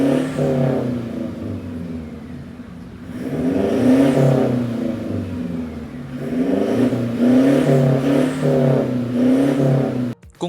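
A Toyota Hilux with an HKS aftermarket exhaust revs twice from idle, each rise swelling into a loud throaty drone before settling, close by, with no talk.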